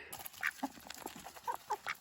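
Backyard ducks give a few faint, scattered quacks and murmurs close by, quiet and brief, waiting to be fed.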